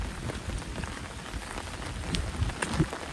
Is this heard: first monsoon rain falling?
yes